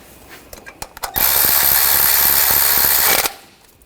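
A power ratchet tightening a bolt on the valve cover bracket of a 2014-2020 Nissan Rogue 2.5L engine: a few faint clicks, then a loud steady mechanical whirring of about two seconds that stops abruptly, close up.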